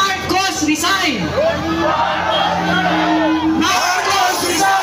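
A rally crowd on EDSA chants a political slogan against Marcos, loud overlapping shouted voices rising and falling in a steady, forceful cadence that fills the whole stretch.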